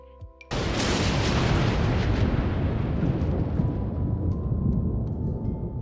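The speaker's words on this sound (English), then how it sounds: "can the thunderstorm just stop for the tours" A thunderstorm in The Sims 4: a sudden loud crack of thunder breaks in, then a long rolling rumble that slowly fades, with no talking over it.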